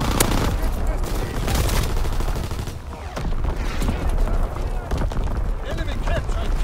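Heavy gunfire and booming blasts from an artillery battery in the Call of Duty: WWII video game, rapid overlapping shots and explosions rolling continuously at close range, with a voice speaking over the battle.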